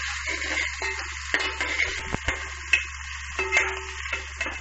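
Green peas, ginger and garlic frying in oil in a pan give off a soft, steady sizzle, broken by light scraping and tapping of a spoon as the mix is stirred.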